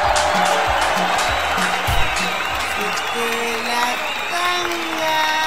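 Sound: applause for a DJ

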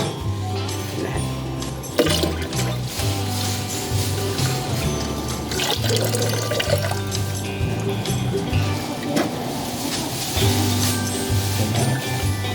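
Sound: pouring bua loy dessert into cold water

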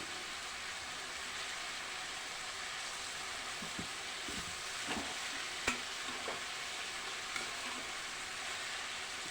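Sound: stirring sliced capsicum into vangi bath masala in a pan

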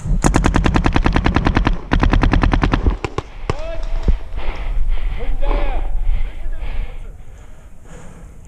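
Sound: shots fired at wooden cover in a scenario game

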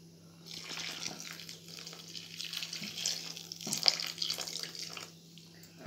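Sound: hot water poured into rice flour for kuzhakkatta

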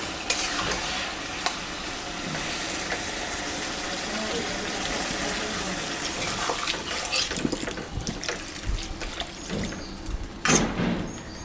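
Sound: pouring water into a pumpkin stem curry while cooking

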